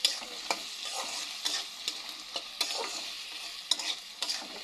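Steady sizzling of dhenki shak greens frying in a pan, with repeated scraping clicks from stirring, close and moderately quiet.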